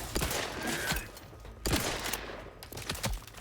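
Rifle fire in a video game, a few sharp reports spaced irregularly, with a cluster of shots near the start, another loud crack midway and a final shot, over a low background rumble.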